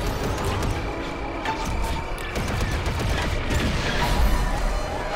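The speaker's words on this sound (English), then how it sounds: "We aren't going to blow a hole in that engine with these cannons." A rapid barrage of blasting shots and crashes fills the scene without pause, dense and loud like spaceship cannon fire in the Lego Star Wars video game.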